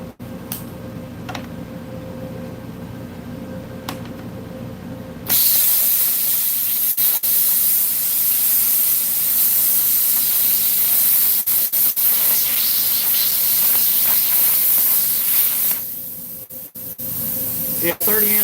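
A plasma cutter drag-cuts stainless steel at 30 amps, a loud continuous hissing rush starting a few seconds in and lasting about ten seconds before stopping, with someone talking quietly before and after the cut.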